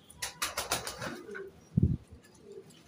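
Fancy pigeons, Maltese and Spanish Pouter breeds, coo in a loft; a few soft, low, throaty coos sound close by, with faint rustling and light background noise.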